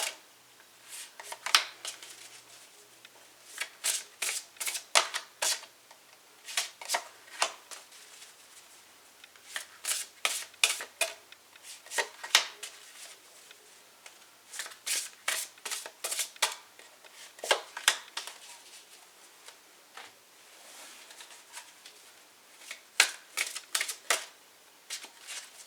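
Tarot cards being shuffled by hand in steady repeated bursts of fluttering riffles, close and fairly soft, continuing without pause for the whole stretch with no voices.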